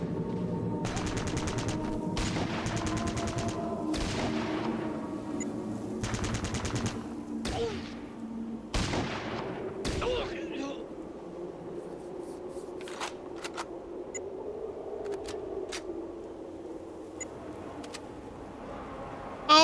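Fallout Tactics gunfire, several bursts of rapid automatic shots in the first ten seconds, crisp and rattling, then scattered lighter clicks and ticks over a low steady game ambience.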